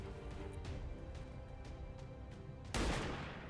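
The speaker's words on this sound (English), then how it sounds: "Go ahead and put some targeting on him, and we'll take a shot at" Gunfire in the video game XCOM 2 Long War 2, a few soft muffled shots over a constant background rumble, then a loud sudden blast near the end.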